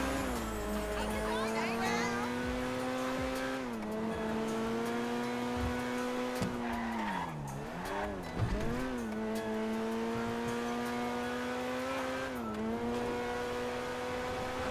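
A car's engine in GTA 5, driven fast, roars and revs with rising and falling pitch as gears shift, close and loud, with brief dips and surges throughout and no pause.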